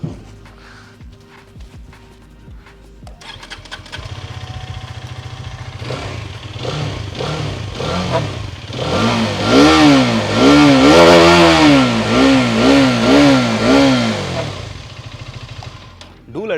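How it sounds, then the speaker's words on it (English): A Hero Karizma XMR motorcycle engine revs repeatedly through its exhaust, starting with a quiet idle, then rising and falling in a series of close, loud throttle blips that build to a sustained high rev before settling back down. "it would be a sin not to hear that exhaust note"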